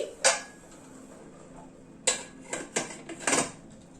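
Metal pressure cooker lid fitted onto a pot of mutton in a home kitchen: a few sharp clanks and scrapes, one early and a quick cluster near the end, close and fairly loud over quiet room tone.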